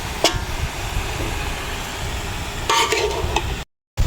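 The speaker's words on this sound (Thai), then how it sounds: "เจียวหอมๆจ้ะ" Shallots frying in oil for an old-style Thai chili paste with pork cracklings, a steady close sizzle with scraping stirs, then a brief silent gap at the end.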